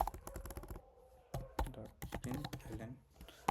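Java code typed on a computer keyboard: quick, irregular clusters of close key clicks with short pauses, and a voice talking quietly in between.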